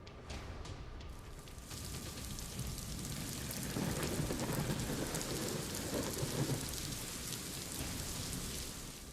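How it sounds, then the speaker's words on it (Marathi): Heavy unseasonal rain pours down in Dapoli, Ratnagiri, a dense continuous roar of rain on surfaces that swells slightly midway, with no voices. "रत्नागिरी जिल्ह्यातील दापोलीत पावसाचा धुमाकूळ सुरू आहे"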